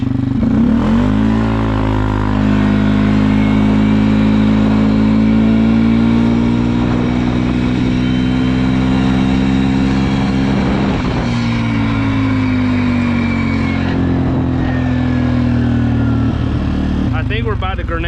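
A 450 XMR ATV with an HMF exhaust launches in four-wheel drive, loud and close, its engine note rising and falling through steady revving harmonics, with a voice talking over parts of it.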